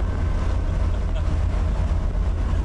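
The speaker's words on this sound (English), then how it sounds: "I'm not quite revving it to the moon either." A 130-horsepower Nissan 200SX engine drones steadily at moderate revs while the car climbs uphill on the road, a dense low rumble with road noise throughout and no rise to high revs.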